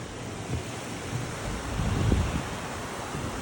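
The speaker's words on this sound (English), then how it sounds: "Little waterfalls down there." A river tumbles over small waterfalls beneath a suspension bridge on a hiking trail, a broad, steady rushing roar with gentle surges and some wind buffeting.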